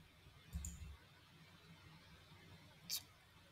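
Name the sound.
computer mouse right click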